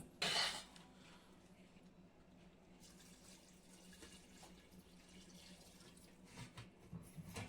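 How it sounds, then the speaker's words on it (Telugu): About half a liter of water splashes loudly into a pot of chicken biryani, then settles into a faint trickle and low liquid sloshing with occasional small clinks. "ఒక 1/2 liter వాటర్ పోసేసుకోవాలి"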